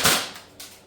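A GHK G5 airsoft gun fires 0.25 gram BBs with one sharp, close pop followed by a fainter second crack, and no voices are heard.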